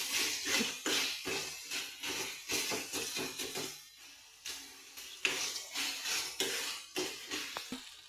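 Tomatoes are mashed in a cooking pan with a spoon or masher, making quiet, repeated rhythmic scraping and tapping strokes against the pan with brief pauses.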